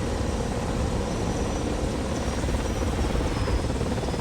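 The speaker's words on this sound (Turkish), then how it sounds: "Helikopterler geldi üstümüze." Helicopters flying overhead in the War Thunder video game give a dense, steady rotor and engine drone, loud and unbroken throughout with no talking.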